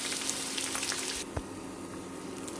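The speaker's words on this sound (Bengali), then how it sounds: "এখন পেঁয়াজ কুচিগুলো লাল করে ভেজে নেব" Chopped onions fry in hot oil in a pan for a papaya and chicken skin dish, giving a steady, close sizzle that softens midway, with a brief stirring knock and no voices.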